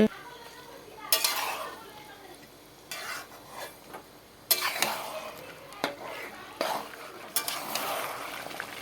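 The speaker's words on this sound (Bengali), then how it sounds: "বন্ধুরা দেখো এখানে খাসির মাংস রান্না হচ্ছে" Goat meat curry stirred in a metal pot, a spoon scraping and clinking against the sides in repeated bursts over a low sizzle, fairly close and with no talking.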